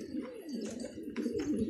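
Pigeons cooing outdoors in soft, repeated rounded calls, a few bursts close together over a quiet background with no talking.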